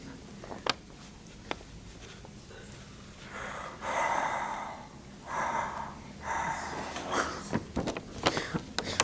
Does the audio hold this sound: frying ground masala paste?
no